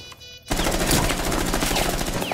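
Rapid pistol fire rings out in a video game after a short quiet start, with loud, dense shots that carry on to the end.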